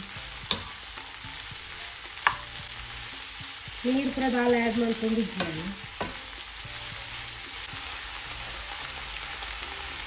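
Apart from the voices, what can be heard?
cabbage being stir-fried in a pan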